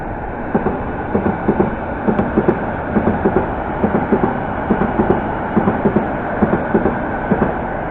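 Train 1064 on London's Metropolitan line rolling through Pinner station toward Baker Street, its wheels beating a steady, repeating clickety-clack over rail joints under a constant rumble, close and loud.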